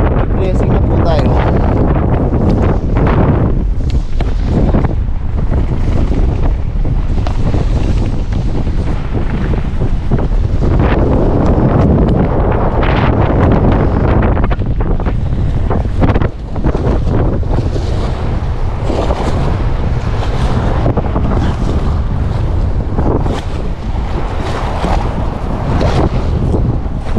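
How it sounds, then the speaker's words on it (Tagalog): Strong wind at sea while fishing from a boat after a typhoon and flood batters the microphone in a constant loud roar, with surging gusts and wave wash throughout and a voice faintly mixed in. "Pasensya na po sa hangin mga kabayan."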